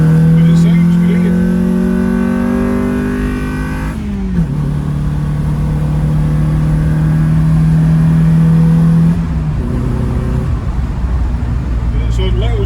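Custom-built car driving on skinny tyres, its engine droning loudly with a rising pitch that drops at two gear changes, while someone talks over it.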